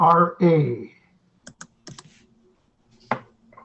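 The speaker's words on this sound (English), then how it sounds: "I can type it into a Google Doc real quick" Keys on a computer keyboard are pressed in a few sparse, quiet clicks with gaps between them, after a brief burst of voice at the start.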